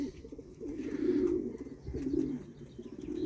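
Racing pigeons coo softly nearby in a loft, with two or three low rolling coos rising and falling over quiet background rustle.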